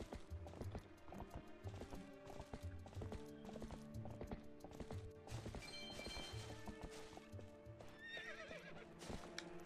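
A horse gallops in The Legend of Zelda: Twilight Princess with rapid rhythmic clip-clop hoofbeats and a neigh, set against game music, loud and continuous throughout.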